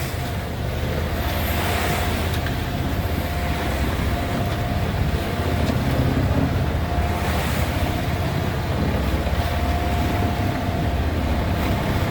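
Ocean rollers wash past a boat heading out to sea from the St. Augustine jetties, a steady, loud roar of surf and water rushing along the hull, mixed with wind buffeting the microphone, with no voices.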